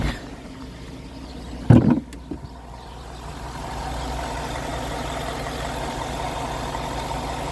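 2014 Ford F-150 with a 5.0L Coyote V8 idling, a steady low engine hum after a brief clatter of knocks near the start, continuing evenly to the end.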